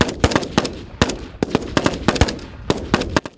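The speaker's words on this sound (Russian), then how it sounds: "Один из самых популярных у школьников этапов подготовки – стрельба по мишеням" Loud, close gunfire cracks out from target shooting practice at a school training camp, with rapid irregular bursts of shots.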